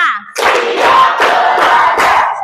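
A classroom of students claps together in a counted pattern, a loud group burst repeating in about three close rounds of rapid overlapping claps, with a brief quiet gap before the first.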